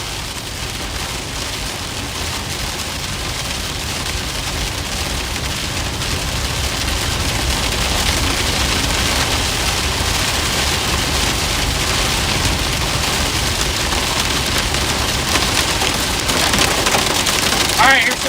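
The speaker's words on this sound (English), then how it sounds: "here's some actual hail" Hail pelts down during a supercell storm in northeast Kansas, a dense, steady clatter of impacts that stays loud and unbroken from start to finish, with no talking over it.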